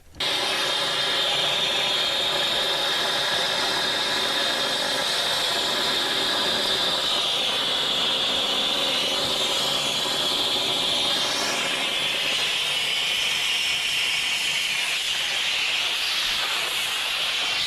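A ToughTek S340e pump runs at about quarter speed while pumping drywall finish coat, giving off a steady, loud hiss and whir that continues unbroken at close range, with no talking.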